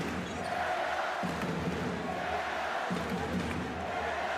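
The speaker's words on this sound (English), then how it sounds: "listen to the crowd here in the Berlin Mercedes-Benz Arena. Hellas, Hellas, Greece," Greek basketball fans roar a continuous chant through a packed Berlin Mercedes-Benz Arena during a EuroBasket 2022 game against the Czech Republic, a dense, steady crowd wall with commentary voices over it.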